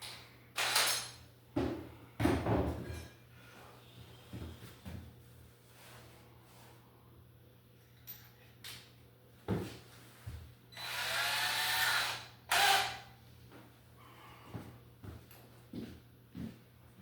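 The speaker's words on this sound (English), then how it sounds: "And we'll get a couple screws into here." Screws driven with a power drill to fix a 2-foot Cadet electric baseboard heater to the wall: several short whirring bursts with pauses, close and quiet, plus a longer run near the end and a few handling knocks, with no talk.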